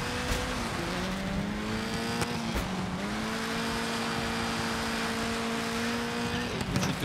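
A rally car in the Dirt 5 video game races on ice, its engine droning steadily with small rises and dips in pitch as it slides through corners, plus a few sharp clicks, with no talking.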